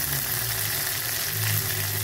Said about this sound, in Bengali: বাটা মশলাগুলো ভাজা হয়ে এসেছে